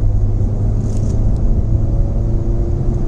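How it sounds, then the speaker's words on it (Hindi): Steady low engine rumble and road hum inside a 2018 Hyundai i20 Active petrol car with windows closed and AC on, fairly loud and continuous, with no talking. "केबिन नॉइज वगैरह सुन सकते हैं"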